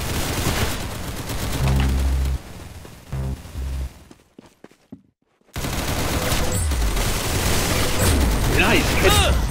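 Gunfire in Roblox Arsenal, dense rapid bursts of shots and booms that drop out briefly to near silence before resuming loudly, with a player talking over the action.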